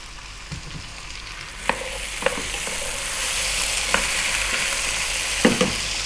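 Tomato, garlic and mushrooms sautéing over high heat for a vegan mushroom basil soup: a steady, fairly loud sizzle with a few distinct scrapes from a spoon stirring the pan, and no talking.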